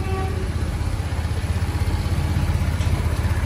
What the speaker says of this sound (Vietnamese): mình sẽ nổ máy lên cho anh chị em nghe nhá